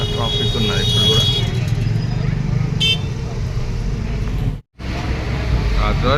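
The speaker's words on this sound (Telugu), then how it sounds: "ట్రాఫిక్ చాలా ట్రాఫిక్ ఉన్నది ఇప్పుడు కూడా" Busy night street near Charminar, Hyderabad: cars and motorbikes rumbling close by, a few sharp horn toots cutting through, voices talking over the steady traffic drone, and a brief near-silent gap toward the end.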